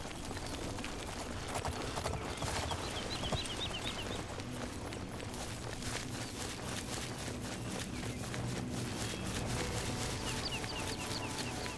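Horse hooves clip-clop steadily in The Elder Scrolls IV: Oblivion, a continuous dense rhythm mixed with clucking chickens and other ambient game sounds, no talking.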